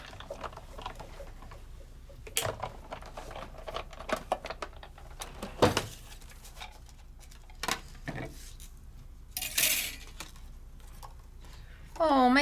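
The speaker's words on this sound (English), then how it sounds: "You'll hear a thump as I go over that score line." A die-cutting machine rolls paper through for a card-making project, giving a few soft thumps and clicks as it crosses a score line, quiet and intermittent against light background noise.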